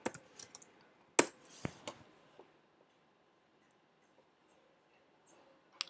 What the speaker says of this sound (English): So let's type in Disney Castle.